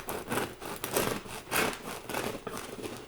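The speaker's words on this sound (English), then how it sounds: "Cutting fresh bread, are you kidding me?" Knife sawing through a fresh, thick loaf of bread: several rhythmic, crisp rasping strokes, close and fairly quiet, with no speech.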